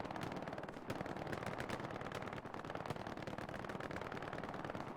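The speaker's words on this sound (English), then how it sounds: "MG fire coming out, sounds like from Berlota. There's the matching LTU MG42 of Fiduclis." MG42 machine gun fire in Hell Let Loose, a dense, continuous barrage of rapid bursts and overlapping gunfire that runs loud and unbroken through the whole stretch with no voices.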